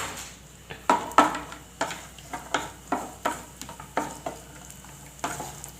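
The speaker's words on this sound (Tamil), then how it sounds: "இப்போ அது கூடவே நம்ம முந்திரி பருப்புலாம் வறுத்து எடுத்துக்கலாங்க." Cashew nuts roasting in ghee in a pan for aval payasam, a quiet background sizzle punctuated by a steady series of spoon scrapes and taps against the pan.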